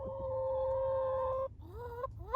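A chicken in a coop gives a long sustained crowing call, then breaks off into rising squawks and clucks, loud and close.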